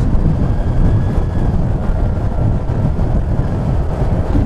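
A Honda Click scooter engine fitted with a canister-style air filter idles and revs with a deep, steady, close-up rumble, continuous and loud throughout with no talking.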